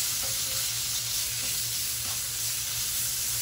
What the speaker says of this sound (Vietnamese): Đó, cái chảo của mình chiên